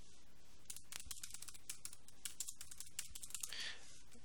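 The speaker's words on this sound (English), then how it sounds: "I'm just typing in a sentence" Typing a sentence on a computer keyboard, a steady run of light, quick key clicks at close range over low room hiss, with no one talking.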